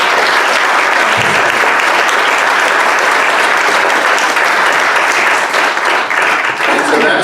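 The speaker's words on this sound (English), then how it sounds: "let's just take a second and give another round of applause to Pearl for sharing" A long round of sustained audience applause at a community town hall in Santa Cruz, with dense clapping throughout, some cheering mixed in, and the clapping tapering slightly near the end.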